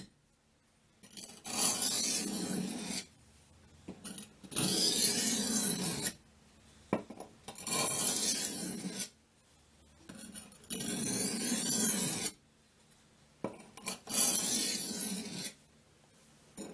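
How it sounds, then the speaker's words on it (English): Steel knife blade drawn across a cheap Harbor Freight sharpening stone lubricated with WD-40, giving repeated rasping strokes of about two seconds each, with short pauses between them, close and fairly loud with no talking. "just a cheapo Harbor Freight stone. It's what I use for most of my rough sharpening."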